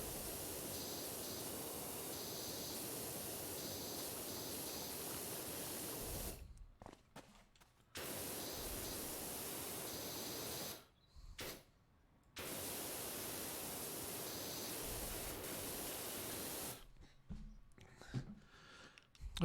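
A pressure washer sprays in the video game PowerWash Simulator, a loud, steady hiss that runs for long stretches and cuts off abruptly several times, with short quiet gaps between bursts.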